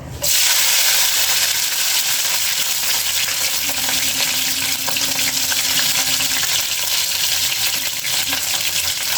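Green chilies sizzle and fry with cinnamon and cardamom in hot oil, a steady dense crackle that holds loud and close throughout with faint stirring, no talk.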